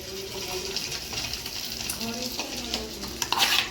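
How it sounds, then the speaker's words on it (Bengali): Eggs sizzle in a hot pan with a soft, even crackle, punctuated by a few stirring clinks and scrapes, and some quiet talk nearby. "গরম গরম এখানে ডিম ভাজা হয়ে গেছে"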